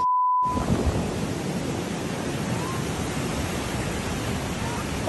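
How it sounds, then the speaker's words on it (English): Big ocean waves crash and roar steadily at Miami's South Beach, a loud, dense wash of surf close by along the boardwalk, continuous with no pauses. "Take a look at the waves here on Miami Beach."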